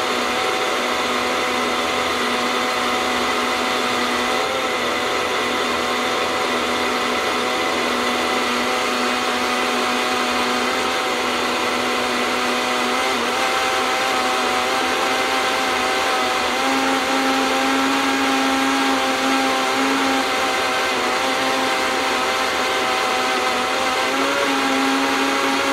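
A Vitamix S50 blender runs continuously blending a smoothie, a loud, steady motor whine with a slight shift in pitch partway through, alone without talk.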